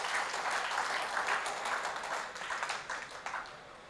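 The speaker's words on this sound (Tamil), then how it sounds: "நல்ல கைதட்டு பத்தலைங்க, அவருக்கு கேட்கணுங்க" Audience applause at a Tamil public tribute event honouring Kalaignar, a dense, steady wash of many hands clapping that holds loud for a few seconds and then begins to thin and fade.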